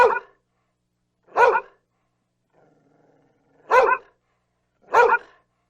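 Dog barking, four loud, close single barks spaced about a second or more apart, with a faint low murmur in one gap.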